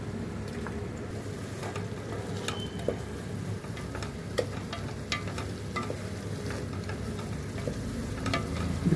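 Chopped large tomatoes frying in a pan for a paya dish, a steady close sizzle and crackle with scattered small pops and ticks, moderate loudness, no voices.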